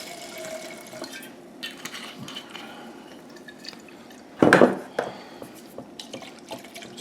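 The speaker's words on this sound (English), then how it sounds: "Put some white wine in there and rinse that can out." White wine poured into an emptied can and swirled to rinse it while cooking chicken, chorizo and peppers, a brief close splash and slosh standing out over faint background drips.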